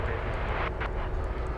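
A Boeing 777 jet airliner at DFW Airport gives off a loud, steady roar of jet engine noise that fills the whole stretch without pause, with a couple of brief brighter swells partway through.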